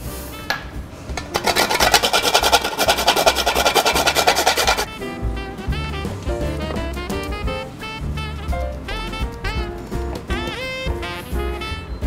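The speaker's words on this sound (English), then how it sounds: "We're going to grate the nutmeg, again, to increase the surface area" Whole nutmeg is grated for mulled wine, giving a loud, steady rasping scrape for several seconds, then softer, irregular scraping strokes close by, with no talking.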